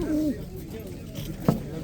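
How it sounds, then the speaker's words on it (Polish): A low pigeon coo near the start and a brief second coo later, soft against a quiet background murmur. "Fajne gołębie."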